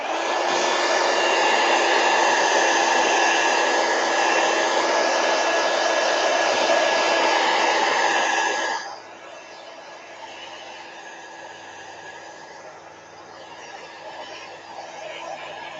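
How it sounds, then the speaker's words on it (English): Heat gun blowing over an art journal page coloured with Neocolor II crayons, a loud, steady close-up roar of fan and airflow that runs for about nine seconds, then cuts out to a low room hum. "I'll hit it with the heat gun."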